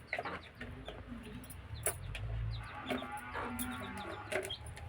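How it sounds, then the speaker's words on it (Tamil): A brooding native country hen sitting on eggs clucks in short, low, repeated bursts close by, with a few sharper chirps scattered among the steady clucking. "இதான் நாட்டுக்கோழி முட்டை அடைக்கும்."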